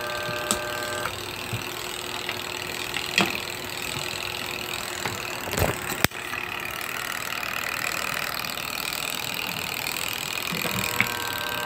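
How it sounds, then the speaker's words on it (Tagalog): A spin dryer motor with a faulty capacitor gives off a steady droning hum, broken by a few sharp clicks and a louder knock around the middle. "umuugong yung spin motor natin dahil sira nga yung kapasitor"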